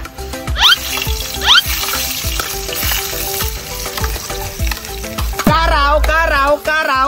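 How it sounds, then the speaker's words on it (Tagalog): Garlic dropped into hot cooking oil fries with a loud, crackling sizzle and rapid spatters close by, joined by a warbling tonal sound in the last couple of seconds. "Ibutang na ko mantika be. Ibutang na ko ning ahos be."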